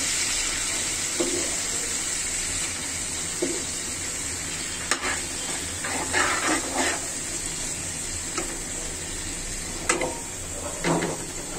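Oil sizzles in a pan of koi fish curry, a continuous hiss with soft clinks and stirring scrapes now and then, heard up close with no talking.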